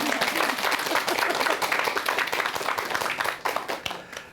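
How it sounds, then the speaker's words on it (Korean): A studio audience breaks into warm applause for a guest named Kim Mi-jin, a dense, even clapping that holds steady and then begins to thin toward the end. "김미진 씨에게 박수 한번 주세요."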